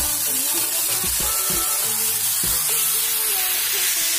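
Capsicum sautéing in a pan while making macaroni fry, a continuous soft hiss and sizzle with a few low knocks and stirring scrapes, close and steady without talk.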